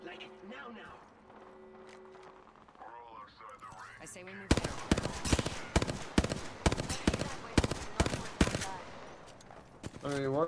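Rapid bursts of gunfire from the Apex Legends battle royale game, starting midway and continuing as loud repeated volleys and single shots, with game sounds and chatter beforehand.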